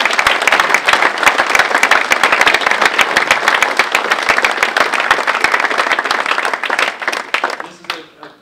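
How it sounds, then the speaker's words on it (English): A large audience at a baseball dinner applauds loudly with dense, sustained clapping that tapers off near the end. "So let's give Jeff Sproy a round of applause."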